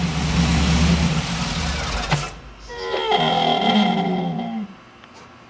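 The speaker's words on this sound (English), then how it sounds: "Rev it a little." A car engine is revved close by, with a loud roaring run for about two seconds that drops abruptly, followed by lower, uneven running with a tonal whine before it fades.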